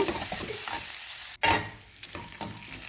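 Sliced onions sautéing with garlic and curry leaves in a pan for sambar, a close crackling sizzle with scraping stirs, a brief break and then a burst of renewed sizzling as more goes in, continuing softer.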